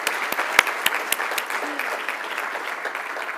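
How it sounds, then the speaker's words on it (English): Audience at a Dartmouth social impact summit gives a round of applause, dense steady clapping with a few crisp close claps, with no talk over it. "Let's do another clap."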